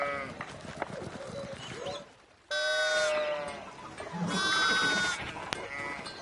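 Sheep bleating in the video game Pentiment, a few harmonic wavering bleats standing out clearly over background game sound and murmuring voices.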